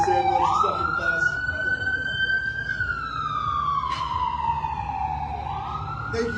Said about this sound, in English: I'll give this ambulance a second to pass.